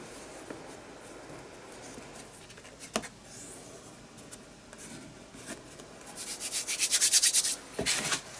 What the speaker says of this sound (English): I'll get rid of that polyprop now. There we go. Just give it a gentle rub.